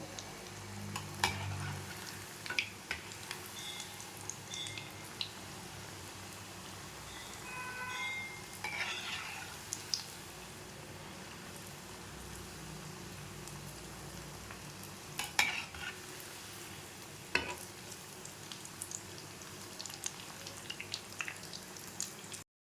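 Potato cheese balls fry in oil with a soft, continuous bubbling sizzle, broken by occasional scrapes and clinks as they are stirred and turned, with no talking.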